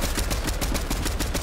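Rapid gunfire in a shooter video game during a fort fight, a dense run of quick repeated shots over about a second and a half, loud and close.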